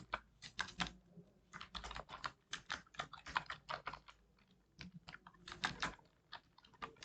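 Typing on a computer keyboard while entering a password, with quick bursts of crisp, close key clicks separated by short pauses, quiet overall and without talking.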